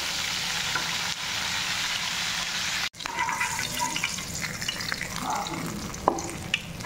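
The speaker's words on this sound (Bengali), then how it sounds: "মাছ ভাজলাম" Fish frying in oil in a home kitchen pan makes a steady, crackling sizzle that stops abruptly with a brief silence, then resumes with scattered pops and clinks as it is stirred.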